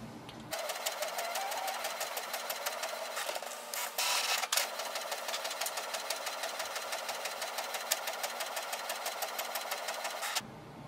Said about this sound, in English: So this way we can do the two-sided printing with this printer.